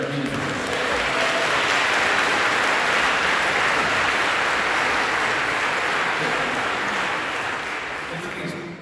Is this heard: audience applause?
yes